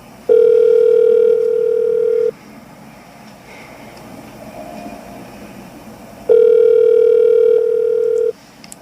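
A telephone ring-back tone sounds twice, each a loud, steady electronic tone lasting about two seconds, separated by a quieter pause with faint background noise.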